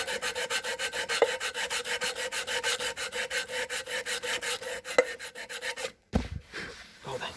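A brake pad edge being sanded by hand with sandpaper: steady, close rasping strokes in a regular back-and-forth rhythm, with a brief pause near the end before the rubbing resumes.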